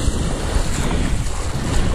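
Strong waves on the Mediterranean Sea off the coast of Israel, a continuous loud rush of surf and churning water with heavy wind buffeting the microphone, no talking.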